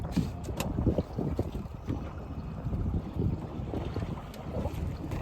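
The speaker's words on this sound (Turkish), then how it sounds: "rüzgar başladı" Gusty wind buffets the microphone in a steady low roar, with water sloshing against a boat hull underneath while bluefish fishing at sea; no one speaks.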